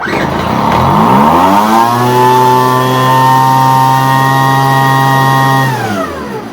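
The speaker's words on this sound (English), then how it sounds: "Some old leaf blower." An old two-stroke leaf blower engine catches and starts, then revs up and holds a loud, steady buzzing drone before easing off at the end, close and alone.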